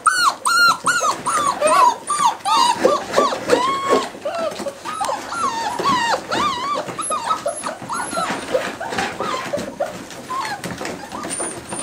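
Several puppies whimper, yip and growl in close, continuous bursts while playing together, with high whines and rough little snarls overlapping throughout.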